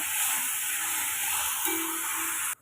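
Vegetables with cauliflower sauté in a pan for vegetable kurma, giving a steady, close hiss and sizzle that runs evenly and alone, then cuts off abruptly at the end.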